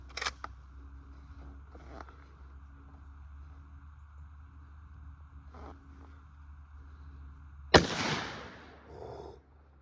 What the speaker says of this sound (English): Now we're going to be shooting at the shaving cream.